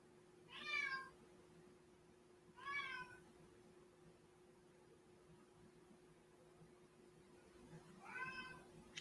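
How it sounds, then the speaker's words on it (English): A cat meows three times, spaced apart, each a short rising-falling cry over a steady low background hum. "I hear a cat."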